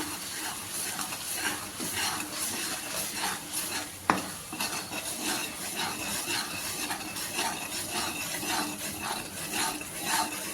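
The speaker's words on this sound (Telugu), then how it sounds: "తెల్లగడ్డ పేస్ట్ పచ్చి వాసన పోయేంత వరకు బాగా దీంట్లో వేయించుకున్నాము" Garlic paste frying in oil in a pan with a spatula stirring, a continuous close sizzle with regular scraping strokes and one sharp clank partway through, no talking.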